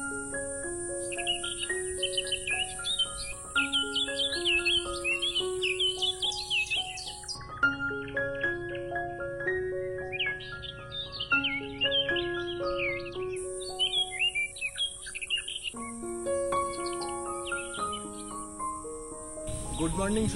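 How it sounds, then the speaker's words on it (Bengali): Morning birdsong and a steady chorus of crickets fill a dew-wet grassy resort in Hooghly, with overlapping chirps and calls running continuously throughout at a moderate level. "এই পাখির ডাক আর ঝিঁঝি পোকার আওয়াজ তো সারাদিনের সঙ্গী হয়ে রয়েছেই"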